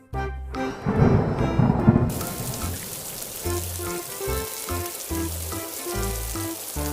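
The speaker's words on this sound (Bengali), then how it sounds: "এই সময় আবার বৃষ্টি এলো কোথা থেকে?" Cartoon thunder rumbles loudly for about two seconds, then steady animated rain continues under a layer of background music.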